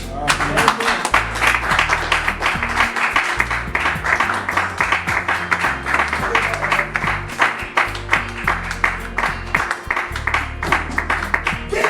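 A church congregation applauds over a continuous rhythmic clapping texture lasting the whole stretch, loud and close, with music and voices mixed underneath.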